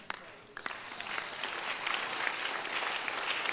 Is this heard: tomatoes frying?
no